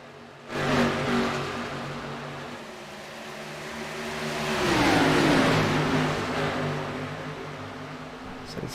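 Race cars roar off a restart into turn one on an oval, engines swelling from a steady drone to a loud rising rush as the pack passes close, then fading back, with no talk.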